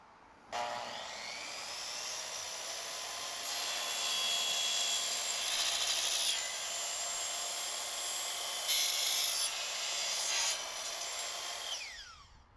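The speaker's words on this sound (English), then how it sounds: "make sure that your saw has an aluminum or ferrous cutting metal blade with a minimum of 80 teeth" A miter saw with a fine-toothed metal-cutting blade cuts through aluminum railing. It makes a loud, sustained high-pitched whine and screech for about eleven seconds, with the pitch shifting as the blade bites, then spins down.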